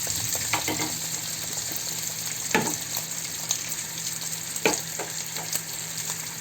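Meat frying in a little oil in a pan as peppers are added, a steady close sizzle broken by a few louder stirring knocks, with no voices.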